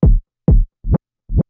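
Four reversed kick drum hits, each swelling up and cutting off abruptly, in two pairs: two deep booming swells, then two shorter, quieter ones.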